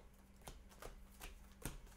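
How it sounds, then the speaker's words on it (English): A deck of Mystic Vale cards is shuffled quietly at close range, several brisk riffling bursts spaced across a couple of seconds against faint background hum. "I'm gonna actually shuffle."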